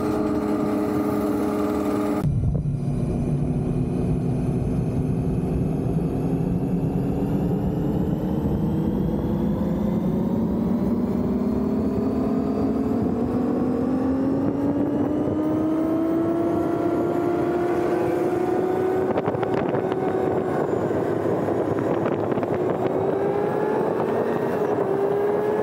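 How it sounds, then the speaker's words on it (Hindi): Several motorcycles on a Gulf road trip near Khorfakkan climb a steep uphill, engines droning steadily and rising in pitch as they strain, loud and close with continuous wind noise and no talk. "बाइक्स का जोर लगना शुरू हो गया है, आवाज़ सुन रहे हैं आप लोग?"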